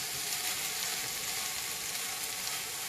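Onions softening and charring in a hot pan alongside flank steak cooking, a soft, even, continuous sizzle with no talking.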